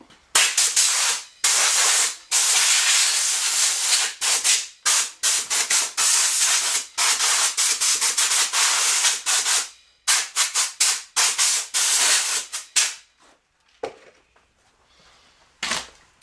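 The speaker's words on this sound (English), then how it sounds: "So I'm going to take my air gun, and I just want to kind of blow all this out" Compressed air from an air gun blasts debris out of a Stihl MS500i chainsaw in loud, hissing bursts of varying length separated by short gaps, with the bursts thinning out toward the end.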